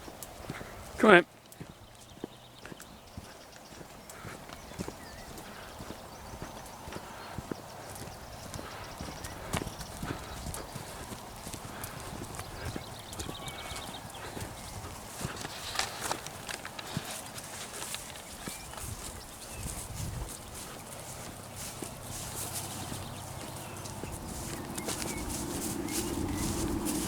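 Cows walk in onto a newly sown grass ley on a farm, their hooves thudding and scuffing over several seconds with faint bird calls outdoors and occasional talk over the top.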